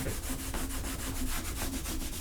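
Beeswax leather balm rubbed briskly into a leather strap, a close, continuous rhythmic scuffing with regular back-and-forth strokes.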